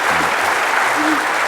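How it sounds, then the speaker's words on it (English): Audience applause fills a conference hall at a EuroPython 2017 talk, a steady dense patter of clapping heard throughout, with a faint voice briefly underneath. "Now they started clapping"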